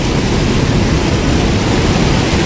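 Water pours and rushes steadily at a dam on a river at Semmavaram near Minjur, a continuous loud broadband roar with no breaks, close by and with no voices.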